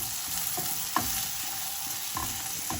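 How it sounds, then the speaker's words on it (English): Green chilli pickle with haldi and hing is being stirred: a steady, bright hiss of oil runs throughout, broken by several soft scraping strokes of a spoon working through the mixture. "Now I'm going to mix everything,"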